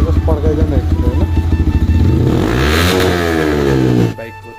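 A modified race motorcycle fitted with a big exhaust is revved hard up close, its throaty drone climbing steeply in pitch before cutting off abruptly near the end.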